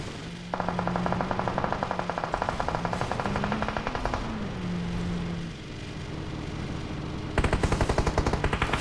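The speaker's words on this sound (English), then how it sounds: "Kabi giving a few shots down to 10 HP here, trying to take some shots at X out here" Rapid automatic gunfire rattles through a battle royale match in steady, evenly spaced bursts. A long volley runs through the first half, a quieter stretch follows, and a sharper burst returns near the end.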